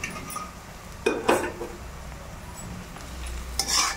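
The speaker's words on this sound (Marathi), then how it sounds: "आता ही कोथिंबीर काढून घ्यायची आहे आणि पसरट भांड्यात गार करायला ठेवायची आहे." Fried coriander, crisped finely over a very low flame for a green-chilli poha chivda, is scooped from the pan into a wide vessel: a few metal clinks and scrapes in short bursts against quiet kitchen background, with no talking.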